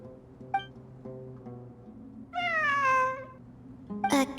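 A cat in Genshin Impact gives a few soft, short mews followed by one long, loud, rising meow and a brief final cry, set over a quiet sustained ambient drone.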